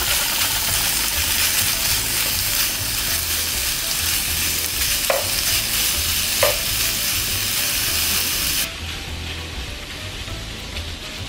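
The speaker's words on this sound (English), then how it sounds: "Ooh, I love the sizzle." Steady, loud sizzling of bacon frying in a pan, a continuous crackling hiss with a couple of brief clinks, then a slightly quieter sizzle toward the end.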